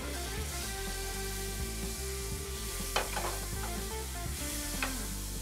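Butter melting and sizzling in a pan heated over medium heat, a steady quiet crackle with a few brief stirring scrapes under background music.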